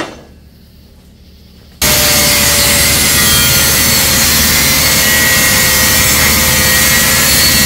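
A power cutting tool, an angle grinder or side cutter, starts abruptly after a quiet opening and then runs loud and steady up close, a harsh sustained grinding rasp that never lets up.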